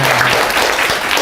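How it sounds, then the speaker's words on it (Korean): Audience applause at an AI webtoon production workshop, a loud, dense burst of clapping from a room of people lasting about a second. "박수 칠 타이밍이 아닌데?"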